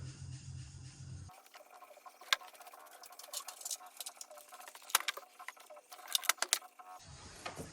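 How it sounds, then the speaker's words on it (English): Torx screws being undone on a Smart 451 gearbox, with faint metallic clicks, scrapes and tool ticks close by, including a few sharper taps, under a low background hum that drops away during the work. "So I'll undo these Torx and see if it moves."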